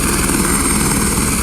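A rescue helicopter idles near a hang glider crash site, its rotor and engine throwing out a loud, steady, close-up whirring drone with no break and no talk.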